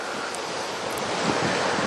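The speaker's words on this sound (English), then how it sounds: "Damn, it's windy." Strong wind gusting on a beach, a loud continuous roar with surf washing in the background and no talking.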